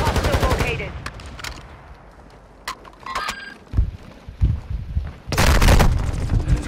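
Call of Duty Resurgence match on Ashika: bursts of automatic gunfire crack at the start and again near the end, with scattered single shots and game sounds between, fairly close and loud.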